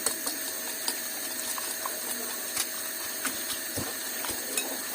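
Eggs and grated parmesan for carbonara are beaten in a bowl, giving a quick, irregular ticking and clinking of utensil against the dish under a steady background hiss.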